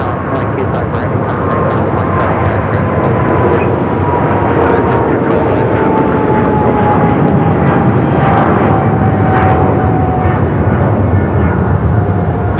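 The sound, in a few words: Eva Air Boeing 777-300ER taking off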